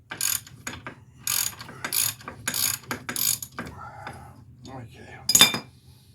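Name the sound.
ratchet removing brake caliper bracket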